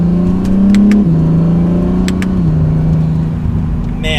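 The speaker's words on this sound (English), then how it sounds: "There's some turbo noises." Acura NSX turbo engine pulling under light throttle from inside the cabin, a steady mid-pitched drone that steps down in pitch at two gear changes, with faint clicks and turbo whoosh over the hum.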